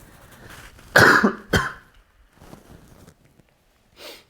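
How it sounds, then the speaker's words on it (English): A pair of sharp, close coughs in quick succession, followed by quieter breathing and a faint throat sound. "Excuse me, I'm gonna cough"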